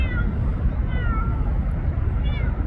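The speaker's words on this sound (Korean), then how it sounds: "우리 나나, 냐옹이야" A kitten meows a few times in a low-pitched, drawn-out way over a loud, rumbling background, with a person talking nearby.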